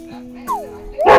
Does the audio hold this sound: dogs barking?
yes